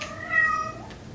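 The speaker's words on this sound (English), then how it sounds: "but that was my cat" A single short, rising-then-falling cat meow, close and clear, with nothing else around it.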